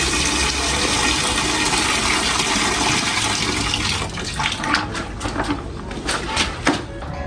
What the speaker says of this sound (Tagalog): Huhugasan na po ni Bal yun pong mga napitpit po namin na bagungon.